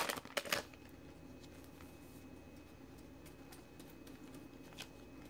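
A last foil pack of 2016-17 Studio basketball hobby trading cards is torn open with a short crinkly burst of ripping near the start, followed by faint, sparse rustling of cards in a quiet room.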